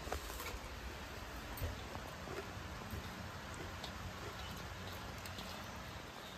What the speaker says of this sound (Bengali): বৃষ্টি এসে গেল মানে